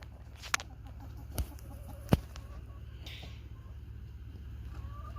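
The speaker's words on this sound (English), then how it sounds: "Chickens, you're gonna experience the winter." Chickens out in winter snow give a few scattered clucks against a quiet, low background hum, with faint distant calls between them.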